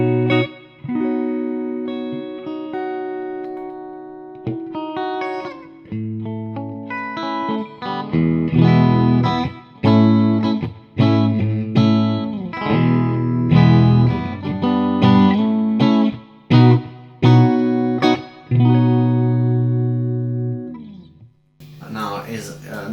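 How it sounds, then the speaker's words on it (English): Electric guitar played through a reverb pedal on a pedalboard, with sustained chords and single notes ringing out into a subtle reverb tail; loud and close, played continuously with brief pauses, no talking. "this is the sound of the reverb."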